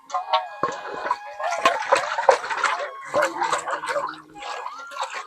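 Water sloshes and pours out of a container while cassava roots are washed, with splashing bursts across several seconds and some voice-like sound mixed in.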